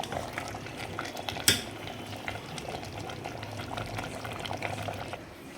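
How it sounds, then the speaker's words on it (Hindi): Mutton curry cooks in a pot on a low flame, giving a steady close bubbling and sizzling, with one sharp metallic clink of a utensil early on. "इसलिए अब हम इसे हल्की आंच पे रख के कुक होने देंगे।"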